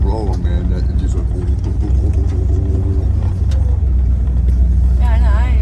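Low rumble of a 1973 Dodge Charger engine rolling along while driving, a steady droning hum from inside the car with people talking over it.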